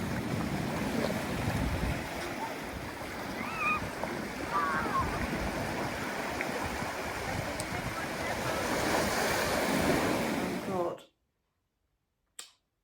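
Ocean surf rolls onto an autumn coastline, a steady broadband wash of waves with gusty wind, loud and close, continuing for about eleven seconds before cutting off abruptly.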